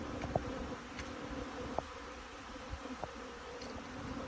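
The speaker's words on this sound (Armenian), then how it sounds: "մեղուն ամբողջ ծավալով դուրս եկավ, ոնց որ ամառային ձագախաղ" Honeybees flying out of the hive in full force on a spring afternoon, a dense continuous buzzing hum with a few sharper passes of individual bees close by.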